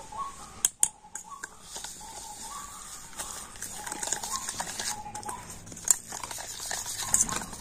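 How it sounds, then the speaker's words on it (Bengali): A spoon stirs semolina batter with powdered sugar in a bowl, giving soft, faint scraping and wet swishing strokes in an irregular rhythm. "আর এখন আমি সমস্ত কিছু কিন্তু একটু ভালো করে মিশিয়ে নেব।"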